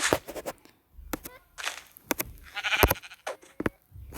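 Sheep bleat in a video game, several short wavering calls scattered among clicks and sharp footstep-like taps, with no talk over them.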